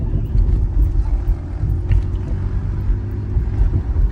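Steady low rumble of a car driving, heard from inside the cabin, with road noise and light wind buffeting throughout, no talking.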